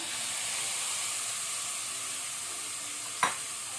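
Onions and tomato sizzling in a cooker for chicken biryani, a constant close hiss of frying with a single sharp clink of a utensil near the end.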